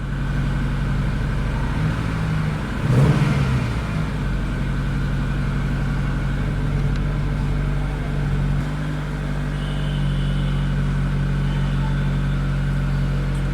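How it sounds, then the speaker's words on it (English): A Maruti Esteem car engine warming up, idling steadily up close, a constant low rumble with a brief rise in revs early on, then settling back to an even hum. "let the engine warm up and then we'll see if the issue goes or not"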